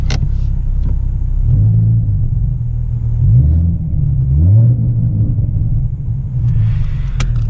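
A car runs with its mufflers missing, its exhaust giving off a loud, deep, steady rumble that swells slightly as the engine revs, with no talk over it.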